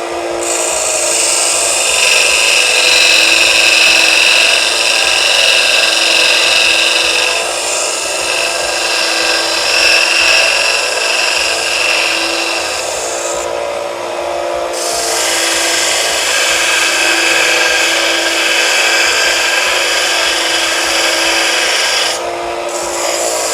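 A Harbor Freight 1x30 belt sander grinds a piece of hardenable steel, a loud close rasping whir with brief pauses where the workpiece lifts off the belt, no voices.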